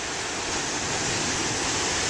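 Moderate ocean surf breaks in a steady, broad hiss of water, constant and fairly close with no distinct crashes.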